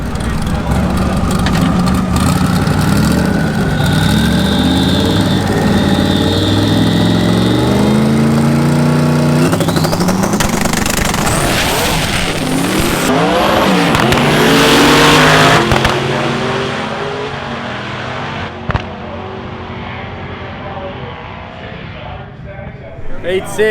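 A Camaro drag racing car launching off the line at LS Fest 2019 with its tyres spinning, a loud sustained engine roar that sweeps upward and then fades as it pulls away, with talk over the top.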